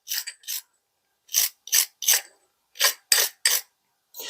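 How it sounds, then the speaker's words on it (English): Wire brush scrubbing residue off a brake caliper slide pin, heard as short, close, rasping strokes in irregular bursts with brief pauses between them. "use my wire brush and just clean it up a little bit to get some of this remaining residue off"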